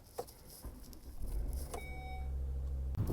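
A car being moved to a new parking spot: a low engine rumble that swells and holds steady, with a short electronic beep and a faint whine, ending with a brief click.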